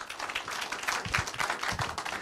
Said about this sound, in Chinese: 借着大家掌声热烈欢迎